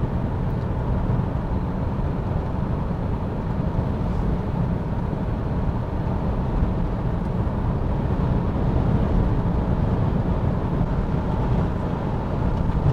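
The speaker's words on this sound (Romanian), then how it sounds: "Acum se mai aud zgomotele de vânt" Steady broadband rushing of wind inside a moving Isuzu D-Max 1.9 diesel pickup, a constant low roar with no talking.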